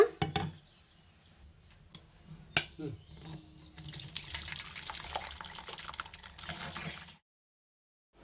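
Boiled tamarind-leaf dal being poured into a metal kitchen strainer: soft liquid splashing and trickling with a few clinks of the vessel, close and quiet, then silence.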